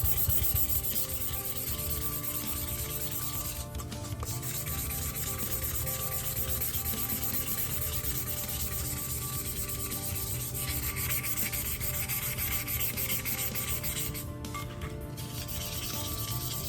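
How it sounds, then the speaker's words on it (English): A small square of sandpaper rubs steadily back and forth over a surface, a continuous close, gritty scratching that runs nearly unbroken with only a couple of brief breaks. "I'm gonna take a little square of sandpaper and"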